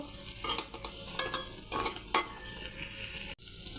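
Stuffed masala pointed gourd fries in oil while being stirred and flipped with a utensil, bursts of sizzling and scraping scrapes against the pan in uneven surges, close up, no voices.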